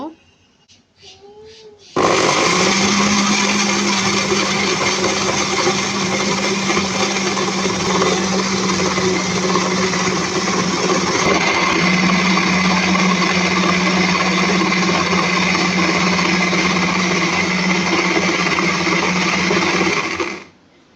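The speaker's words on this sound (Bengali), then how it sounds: "দেখুন আধা মিনিটের মতো আমি ব্লেন্ডারে ব্লেন্ড করে নিলাম" An electric blender blends ripe mango with a little water, a loud, steady whirring drone that starts abruptly after a brief quiet moment and runs continuously for about eighteen seconds before cutting off.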